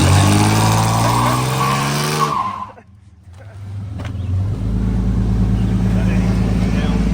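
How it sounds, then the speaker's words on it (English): A truck does its first burnouts, its engine roaring loudly with tire noise, dropping away briefly before surging back into a sustained, heavy roar; people talk over it. "Truck's getting its first burnouts."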